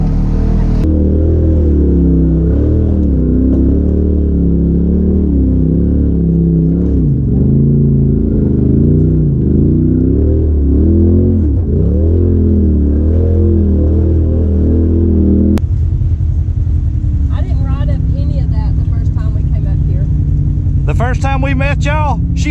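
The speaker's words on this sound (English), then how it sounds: "I drive a Polaris." A Polaris side-by-side on a mountain trail at Windrock, its engine droning loudly and rising and falling in pitch as it revs, with people talking over it near the end.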